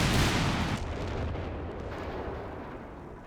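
Panzer Storm rockets in Company of Heroes 3 slam into buildings in a 4v4 match on Sousse, a heavy burst of explosions at the start that decays into a rumbling, crackling tail.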